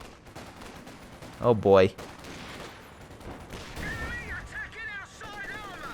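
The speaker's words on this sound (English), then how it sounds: "MG-34 covering the flank, trying to stop the British infantry. Support gun also opening fire." An MG-34 machine gun and a support gun fire in Company of Heroes 2, heard as a loud double burst early on followed by scattered distant shots and battle noise, while a voice talks over the action.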